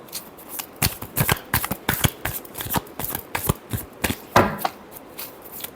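Tarot cards are shuffled by hand at close range in a rapid, irregular run of crisp riffling slaps and flicks lasting several seconds, with no talking.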